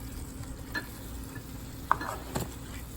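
Ground beef sizzles softly in a pan on high heat while a utensil stirs it, with a few faint scraping clinks over the quiet frying hiss.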